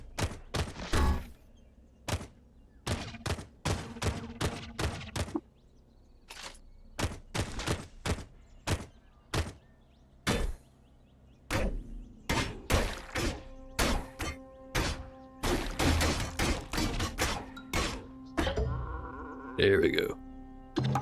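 Repeated sharp semi-automatic pistol shots in the roguelike game Caves of Qud, a long series of punchy reports at an uneven pace, some in quick clusters, with a voice speaking briefly near the end.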